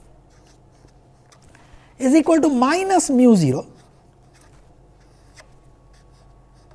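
Pen or chalk writing on paper during a physics lecture, a faint steady scratching in the background while someone speaks briefly in the middle.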